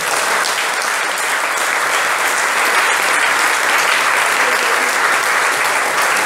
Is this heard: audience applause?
yes